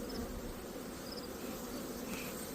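A dense, continuous hum of many honey bees buzzing close by at a hive being smoked for inspection, steady and moderately loud with no voices.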